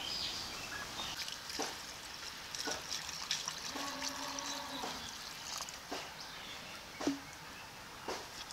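Water is poured into a pan of cooking chicken curry, giving a soft, steady trickle and splash with a few brief clinks, heard close and fairly faint.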